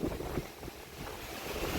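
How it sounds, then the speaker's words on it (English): Gusty wind from the outer bands of Hurricane Idalia buffets the microphone in a brief, low rumbling rush that stays fairly faint and steady. "There's that wind right there."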